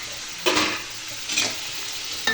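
Onions sauté for biryani in a pan with a steady close sizzle, broken by three louder bursts as they are stirred.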